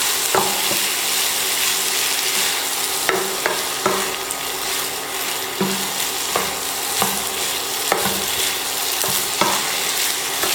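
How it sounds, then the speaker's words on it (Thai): Bamboo shoots and chicken with kaffir lime leaves stir-fried in a hot pan, a steady sizzle broken by repeated scraping strokes and clinks of the spatula, continuous and close with no voices. "แล้วก็ผัดให้เข้ากันนะคะ"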